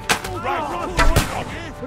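Cannon fire in Kingdom Come: Deliverance 2 during a battle, several heavy booming blasts in quick succession, loud and close, with shouting voices mixed between them.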